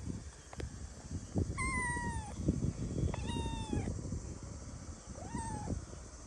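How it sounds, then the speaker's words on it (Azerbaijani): A pet cat meows three times in a family garden home in Azerbaijan, drawn-out rising and falling cries spaced a second or so apart, fairly close over a rustling, scuffling background. "Bu da bizim pişiyimizdir."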